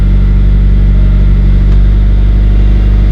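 A Mitsubishi Lancer Evolution 8 engine runs steadily at close range, a loud continuous low rumble with no break in its three seconds.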